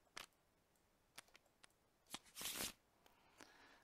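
A deck of cards being shuffled at the table during a Battlestar Galactica board game: a few quiet riffling bursts and light taps, the longest riffle near the end, with no talk.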